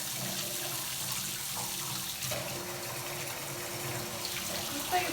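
Hot water runs from a tap onto an epoxy resin coaster in a sink, a steady close hissing stream that continues without pause, with faint talk in the background.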